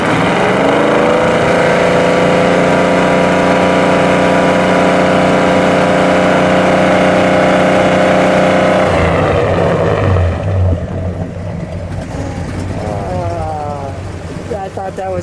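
A 1967 Plymouth Belvedere GTX with a 440 V8 and four-speed rumbles loudly at a steady, close idle, then the engine note shifts and drops away near the end as it settles lower.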